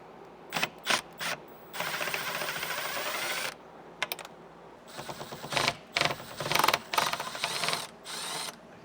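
A hand ratchet on a swivel extension clicks in quick bursts while backing out sunroof bolts on a BMW E39 540i M-Sport, close and alone, with a long sustained whirring run of ratcheting in the middle.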